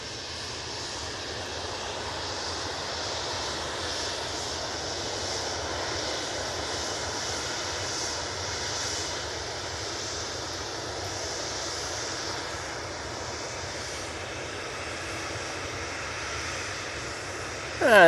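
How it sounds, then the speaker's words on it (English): A Ryanair Boeing 737-800 jet at Manchester Airport gives a steady, broad engine roar that holds fairly level for the whole stretch, with no voices over it. "There we go, the Ryanair 737-800."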